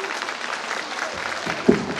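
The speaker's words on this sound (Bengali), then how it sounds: "তবুও ওর জন্য একটা সবাই জোরে হাততালি।" An audience at a school reunion and student programme claps loudly for a student, a steady two-second burst of applause from a crowd in a hall.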